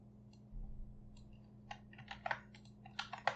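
Someone types on a computer keyboard while creating a Minecraft datapack: a quiet run of light key clicks that grows busier toward the end, heard over a steady low hum with no talk.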